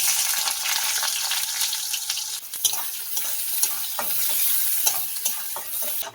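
Onion pieces go into hot mustard oil in a heated wok and fry with a loud, steady sizzle, with stirring scrapes and small spatters running throughout, close up and with no talking.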